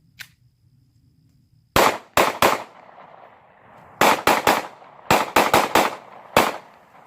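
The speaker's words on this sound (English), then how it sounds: "So you just seen the shooting video of, me shooting the Taurus G2c." Taurus G2c pistol gunshots fired in quick clusters, about eleven sharp loud cracks in groups of two to four with short gaps and brief ringing echoes, outdoors and close.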